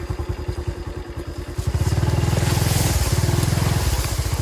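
A motorcycle engine chugs close by with a rapid, even putter that grows louder and heavier midway as the rider accelerates along a rough rural track.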